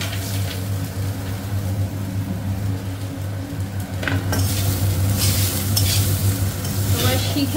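Ghee sizzles steadily in a pan while being stirred, a continuous frying hiss with scraping strokes growing brighter and louder partway through, over a low constant hum, no talking.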